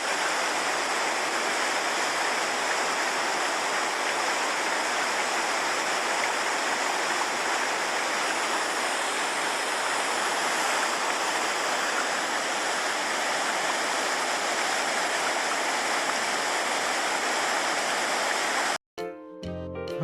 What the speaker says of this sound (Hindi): और ये आ गया हमारा वाटरफॉल।